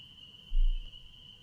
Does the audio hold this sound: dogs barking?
no